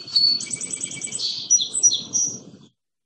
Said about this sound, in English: this is a song sparrow, and the field mark to look for here is that central black spot. Here's what they sound like.